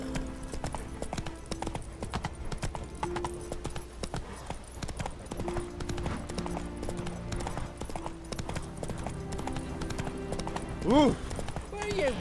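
Horse hooves clip-clop steadily at a gallop in The Witcher 3, a continuous rhythmic patter with game music and a voice over it, a brief whinny-like rise near the end.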